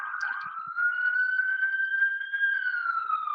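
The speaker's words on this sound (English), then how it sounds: "wait for the sirens to pass." A police siren wails steadily, its pitch sliding gently as the vehicle passes by at moderate distance, loud and unbroken.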